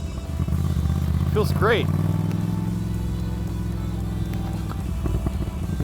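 A custom-built Moto Guzzi V9 Roamer motorcycle being ridden, its engine a steady low drone heard from the rider's helmet, with a brief rev flutter early on while the rider speaks briefly.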